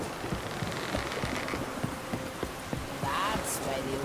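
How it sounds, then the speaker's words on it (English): Light rain pattering steadily in The Witcher 3, a soft faint hiss of drops with scattered ticks, joined briefly by a short chirping sound near the end. "It's raining."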